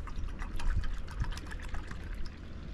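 Water poured into a tin can ahead of boiling on a small survival stove, a close, continuous splashing trickle that stays steady for a few seconds, then softens slightly near the end.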